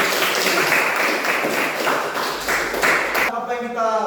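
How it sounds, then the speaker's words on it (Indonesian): An audience applauds at a teacher-training classroom session, a dense steady patter of clapping that runs for about three seconds before cutting off, followed by quieter room sound with faint voices. "Tepuk tangan untuk"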